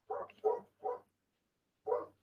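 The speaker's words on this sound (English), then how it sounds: "Cassie, is that your puppy? Yeah, is he being really, really loud?" A puppy barks in four short sharp yaps, three in quick succession and one after a pause, close and clear against silence.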